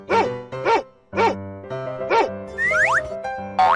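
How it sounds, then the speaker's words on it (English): A dog barks in a short series of about five sharp, loud barks, with playful toy-like boing and whistle effects layered over the final barks against a steady musical background. "Dog."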